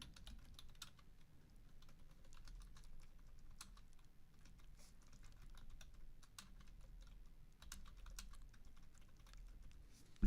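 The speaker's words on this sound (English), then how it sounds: "let me go ahead and just type this." Typing on a computer keyboard, soft rapid key clicks in uneven bursts, close and quiet, with no talking.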